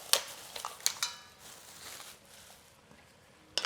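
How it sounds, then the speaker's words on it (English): One pound of mussels tumbles into a hot pan with chili flakes, giving a few sharp clinks and clatters of shells against metal, then a light sizzle and quieter shuffling before one final clack. "So now I have 1 pound of mussels that I'm gonna toss in."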